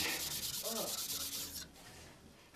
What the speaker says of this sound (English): I'm even going to go to the coarse stone here